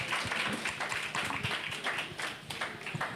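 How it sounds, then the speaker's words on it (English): An audience at a book chat during a literary festival claps in a dense, continuous burst of overlapping hand claps, moderately loud, with no voices. "Please, everybody, give a round of applause for Shani and Nnamdi."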